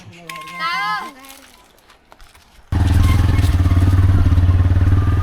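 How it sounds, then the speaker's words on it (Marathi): A motorcycle engine starts up loud and steady, rumbling close by after a few seconds of quieter sounds and a brief voice. "जातोय बाईकनी. बघा बाईक फिरवते."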